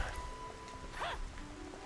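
Steady, faint rain patters down in a Xenoblade Chronicles video game scene, a soft continuous hiss with no talking.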